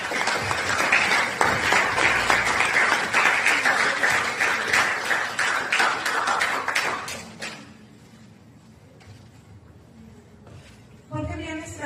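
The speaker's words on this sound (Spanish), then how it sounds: "Les pido un aplauso para ella." Audience applause at a book launch event, dense sustained clapping for about seven seconds that then fades out to quiet room noise, with a brief burst of sound near the end.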